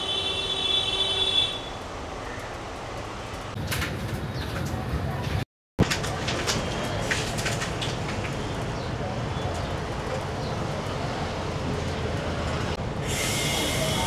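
A heritage Kolkata tram rolls along its rails on the Esplanade to Shyambazar route, giving a steady, heavy rumble that fills the whole stretch, with a high wheel squeal at the start and a brief dropout midway.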